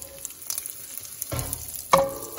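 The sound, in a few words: mustard seeds, cumin and asafoetida sizzling in oil for okra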